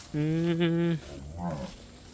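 A cow on a cattle farm lets out one loud, deep moo lasting nearly a second. A softer, shorter bovine call follows, close to the listener.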